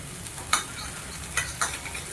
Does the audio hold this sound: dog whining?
no